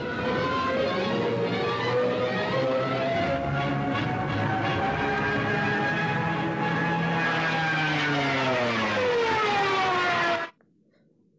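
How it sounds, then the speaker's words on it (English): A loud wailing Stuka dive bomber siren screams continuously over a roaring aircraft engine, its pitch rising and bending for about ten seconds before cutting off abruptly. "Every time the bombers dived to bomb, the siren would start the well-known screeching sound."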